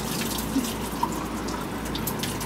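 Tap water running steadily into an empty tomato paste can at a kitchen sink, a continuous close-up splash and hiss with a couple of small drips and no talking.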